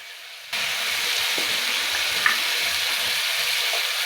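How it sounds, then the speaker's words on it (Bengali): Chili, coriander, cumin and Kashmiri chili powder fry in oil while being stirred, a steady close sizzle that starts abruptly and continues with soft scraping. "ভালোভাবে নেড়ে চেড়ে মশলাটা ভেজে নেবো যতক্ষণ না তেল ছেড়ে আসে"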